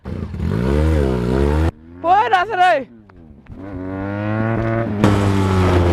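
A heavy motorbike engine revs loudly and up close in bursts, its pitch rising and falling, with someone shouting over it and brief gaps between throttle blips.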